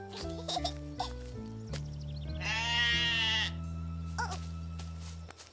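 Sheep bleat in a French children's cartoon scene, a loud, wavering bleat standing out clearly over a sustained musical backing, with a couple of shorter squeaky calls following.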